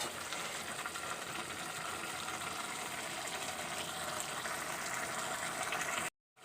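Mixed vegetables with fenugreek and green chillies sautéing in a pan, giving a steady, close sizzle and hiss that runs unbroken for about six seconds before cutting off abruptly.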